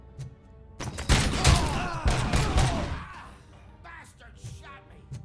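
Gunfire bursts in the RoboCop: Rogue City video game, several loud close shots clustered in the first few seconds, then quieter scattered reports, with a voice talking over part of it.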